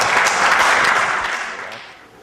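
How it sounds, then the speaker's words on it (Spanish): A church congregation at a Spanish-language worship service gives sustained, dense applause that fills the space, then gradually fades out near the end. "Un fuerte aplauso al Señor."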